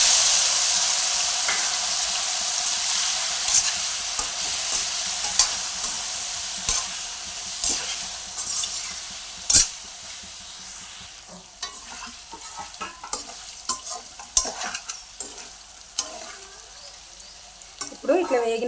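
Paneer pieces fry and get stirred in an oil pan with salt and turmeric for a Telangana-style paneer curry, a steady sizzle broken by frequent close scraping strokes of the spoon.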